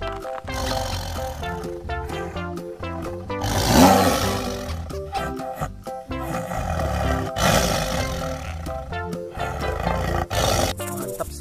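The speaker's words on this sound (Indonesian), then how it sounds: "lihat di sini ada harimau teman-teman" A tiger roars loudly over a dense, busy background, the growling swells rising and falling across several seconds.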